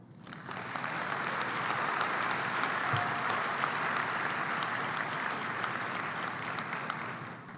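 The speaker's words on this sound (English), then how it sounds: "So give yourselves a round of applause." A doctoral graduating class at a Brown commencement ceremony applauding, a dense sustained clapping from a large crowd that swells in and holds steady to the end.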